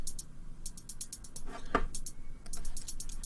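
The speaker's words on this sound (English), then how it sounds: "I have a closed hat, which sounds like this" A closed hi-hat mounted on a pancake ticks out a quick, faint rhythmic pattern of crisp, short hits with a brief pause partway through.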